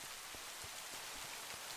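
Steady rain falls in Minecraft, a continuous hiss of drops with soft low thuds scattered through it, alone and without talk.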